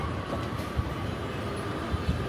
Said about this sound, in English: This is train going to Dongguan, Guangzhou.